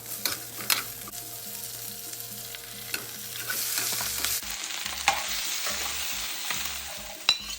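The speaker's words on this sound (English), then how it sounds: "saute the onions" Onions sautéing in a pan give a steady, loud sizzle with occasional stirring scrapes and sharp pops, close up and continuous throughout with no voices.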